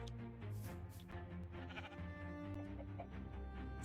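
Sheep bleating steadily and close by, with layered wavering calls from several animals overlapping throughout. No talking.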